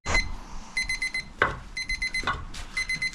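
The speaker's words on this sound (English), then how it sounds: "Beeping." A meat thermometer beeps in repeated quick bursts of high electronic tones during the smoking of a beef brisket, loud and close, with a few clunks between the bursts.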